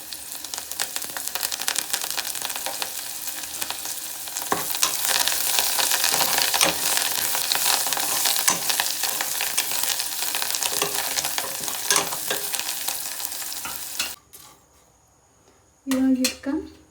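Onions and coriander fry and crackle in a pan for egg biryani, a dense steady sizzle with stirring scrapes that stops abruptly near the end, followed by a brief clatter.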